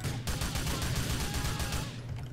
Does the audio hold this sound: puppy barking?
no